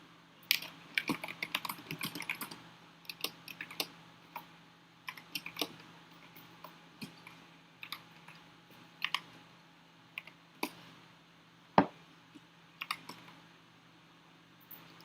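Keys on a computer keyboard clatter in irregular bursts of close, crisp clicks, with short pauses between flurries and one louder clack near the end.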